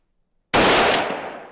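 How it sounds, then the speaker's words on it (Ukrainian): A single sharp gunshot fired point-blank at a hardened steel anvil cracks out after brief silence, then rings off in a fading decay. "Постріл."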